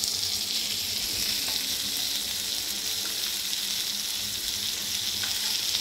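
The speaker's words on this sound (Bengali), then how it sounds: "একটু কম জালে মাছ ভাজা করলে মাছ ভালোভাবে ভাজা হয়" Sarpunti fish fry on low heat in a pan with dried red chillies, giving a steady, close sizzle and crackle of hot oil that continues evenly without any talk.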